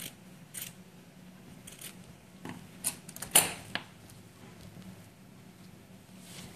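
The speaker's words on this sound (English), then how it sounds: "it's much better to use a scissor to just cut a sample out of it" Scissors snip through a fabric sample in a few short, crisp cuts clustered near the middle, with faint handling noise around them.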